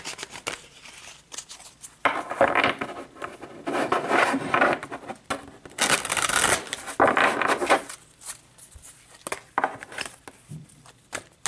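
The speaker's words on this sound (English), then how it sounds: "So let's pull some advice cards for you guys." Tarot advice cards being shuffled by hand, a papery riffling and rubbing that comes in dense bursts with short quieter pauses, close and fairly loud, with no talking.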